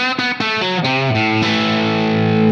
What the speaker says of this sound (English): So this is just a touch of spring reverb,